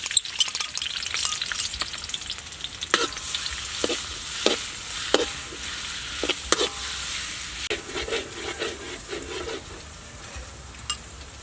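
Chopped garlic and green onion frying in sesame oil, a close bright crackling sizzle throughout with several sharp spatula taps and stirring scrapes against the pan, no voices.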